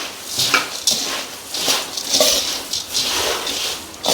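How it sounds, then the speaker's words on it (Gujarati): Puffed rice stirred together with oil tempering in a pan for chevdo, a dry crisp rustling and scraping in repeated strokes, close and moderately loud with no talk. "મમરા આપણે વઘાર સાથે સરસ મિક્સ કરી લેશું।"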